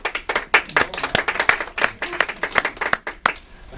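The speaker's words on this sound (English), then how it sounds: "I like it when they applaud beforehand" Audience applause before a talk on fracking, a lively burst of close, individual hand claps with an uneven rhythm that thins out toward the end.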